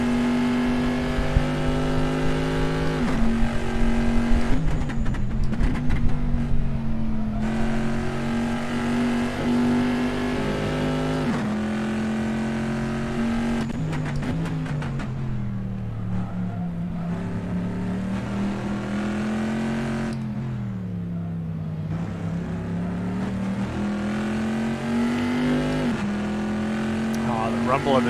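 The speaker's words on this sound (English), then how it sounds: "Oh, the rumble of this engine is just so good." A Corvette C7.R's V8 rumbles steadily in a sim racing game at Sebring, a deep droning engine tone rising and falling with throttle and gear changes throughout, while a commentator talks over it.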